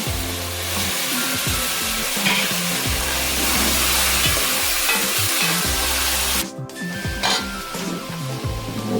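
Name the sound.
tomato frying in hot oil for gombo sauce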